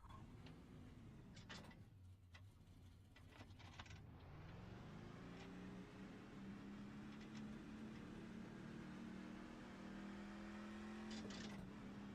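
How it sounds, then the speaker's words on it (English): A Chevrolet Silverado race truck in iRacing cranks and fires up in the pits at Phoenix International Raceway, then settles into a steady, droning idle with a few light clicks over the top. "All right, let's get the truck fired up here."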